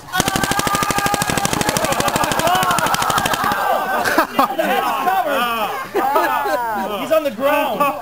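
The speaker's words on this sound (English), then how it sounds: "Here comes the big machine gun." A paintball machine gun fires a rapid, steady burst of loud pops for several seconds, then stops as excited voices shout and talk over each other nearby.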